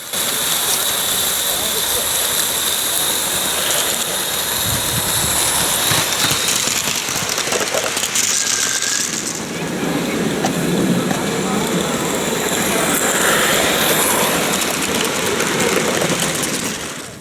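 A model D-Class Garratt locomotive runs on a layout at an open day, giving a continuous mechanical whir and rattling rail noise with a steady, fairly close hum throughout.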